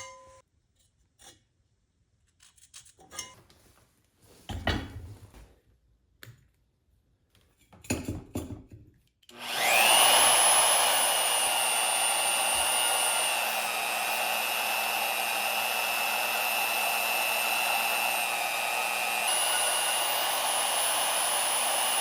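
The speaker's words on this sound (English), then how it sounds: "We'll drill the other side through." A hand drill bores through wood for a wooden cart build, starting after several quiet knocks and handling sounds, then a loud, steady, high whining drone that holds for about twelve seconds.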